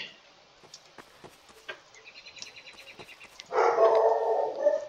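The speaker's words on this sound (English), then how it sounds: "Oh my word, my dog is barking now." A dog barks in a Garry's Mod horror map, a few short faint yaps and clicks at first, then a loud, sustained burst of barking near the end.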